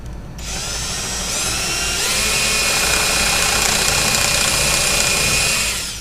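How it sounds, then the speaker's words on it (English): A power drill runs steadily while driving screws and countersinking holes in MDF, a continuous whirring whine that rises in pitch after a moment and holds for several seconds, close and loud with no talking. "we're just going to take some screws, countersink some holes"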